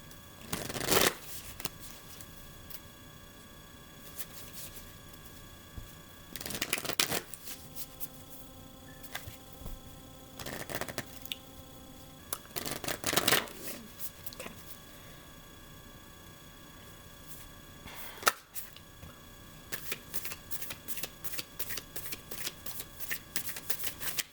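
Cards are shuffled in several bursts of quick riffling and flicking, separated by quiet pauses with a faint electrical hum underneath.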